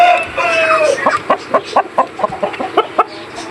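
Hens clucking close by on a small poultry shed farm, a run of short rhythmic clucks following an opening stretch of louder squawking and crowing-like calls.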